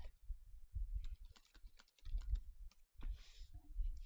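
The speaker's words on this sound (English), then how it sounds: "Type that in." Someone types on a computer keyboard nearby in quick, uneven runs of soft key clicks with brief pauses between bursts, all fairly quiet.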